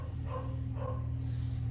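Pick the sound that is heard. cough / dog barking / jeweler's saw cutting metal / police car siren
dog barking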